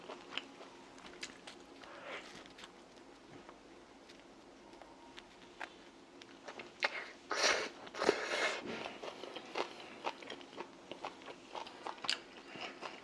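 Someone bites and chews Di Fara pizza in New York, soft close crunching and mouth sounds over a quiet room hum, with a denser burst of crunchy bites midway and no speech.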